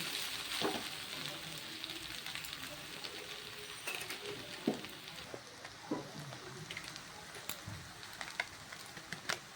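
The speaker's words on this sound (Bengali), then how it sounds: "আমি একটু ভালো করে চাউটা নাড়াচাড়া করে নিই" Chow mein noodles being stir-fried and tossed with Maggi masala give a quiet, continuous sizzle, punctuated by occasional scrapes and clicks of stirring, with no voices.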